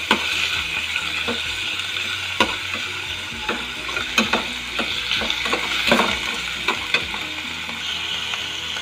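Beef cubes being crushed and stirred in a sizzling pan while making carbonara, with steady frying hiss and scattered utensil clicks and scrapes against the pan.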